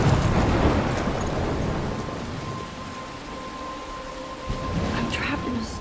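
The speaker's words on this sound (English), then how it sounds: "I'm trapped in a storm?" Thunderstorm in the video game Life is Strange, with steady heavy rain and rumbling thunder filling the scene, a loud low roll near the start and a swell near the end.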